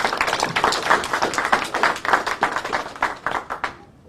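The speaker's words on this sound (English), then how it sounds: "Please give him a round of applause." An audience at a live public event on Grand Bahama gives a round of applause, a steady stretch of many hands clapping nearby at moderate loudness that tapers off at the end, with no speech over it.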